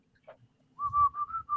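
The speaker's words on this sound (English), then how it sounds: "I'm whistling the Speed Racer theme." A person whistles the Speed Racer theme, a short run of clear, steady melodic notes close to the listener, with faint low background noise and a brief soft sound just before the tune.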